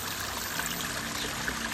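Water trickles steadily over a waterfall in a subtropical garden, a soft, continuous wash of falling water with no voices.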